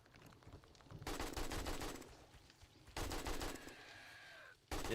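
Automatic gunfire in 7 Days to Die comes in long sustained bursts, three loud stretches of rapid shots separated by brief pauses, with a fading metallic ring after one burst and a final burst at the very end.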